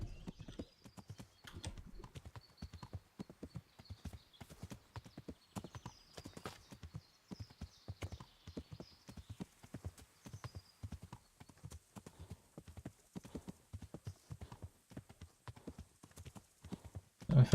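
Horse hooves clip-clop in a steady, continuous rhythm while a mount is ridden in the video game Kingdom Come: Deliverance, fairly quiet and unbroken with no talking.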